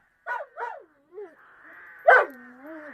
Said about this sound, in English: Timmy was by the front door, barking under a tree there